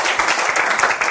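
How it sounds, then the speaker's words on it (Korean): A classroom audience in a human-centered design class gives a short round of applause, with close, lively hand claps in a dense burst lasting about a second. "박수 한번 쳐주고요."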